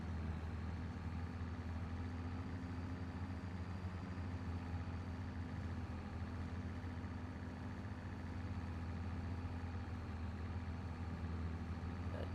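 A tractor engine runs steadily in Farming Simulator 25, a low, even droning hum with a constant tone and no change in pace across the whole stretch, with no voices over it.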